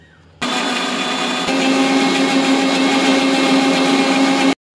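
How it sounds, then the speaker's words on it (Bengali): A loud electric grinder whirs steadily for about four seconds, grinding coriander, cumin, cardamom, cloves, cinnamon and nutmeg, with a constant motor hum, starting and stopping abruptly. "ধনে, জিরে, ছোট এলাচ, লবঙ্গ, দারচিনি আর সামান্য জায়ফল দিয়ে গ্রাইন্ডারে দিয়ে দিলুম।"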